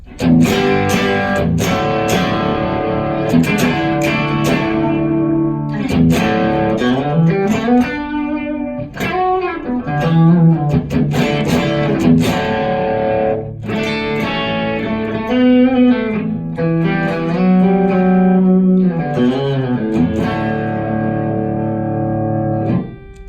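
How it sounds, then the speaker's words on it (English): Electric guitar played through a Blackeye Effects Palmetto boost pedal on a pedalboard, loud and driven, with strummed chords and ringing single-note phrases sustaining continuously without talk. "It's the Blackeye Effects Palmetto boost."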